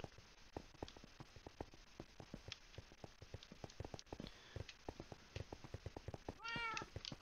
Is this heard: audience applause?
no